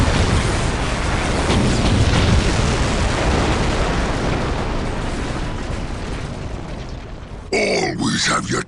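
A bomb goes off in a Warhammer 40K Dawn of War: Dark Crusade cutscene, a long, loud rumbling blast with heavy low-end that slowly fades, then an ork voice grunts over the tail.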